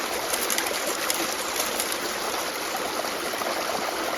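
Dense, even hiss and gurgle of water pouring through a gold sluice box set at about an 8 degree pitch on a New Hampshire stream, loud and continuous at close range with no talking.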